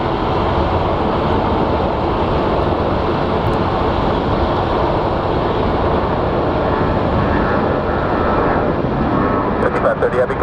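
A United airliner departs Sky Harbor airport in Phoenix for Denver, its engines giving a continuous broad, loud roar that holds steady throughout, with a voice faintly audible underneath.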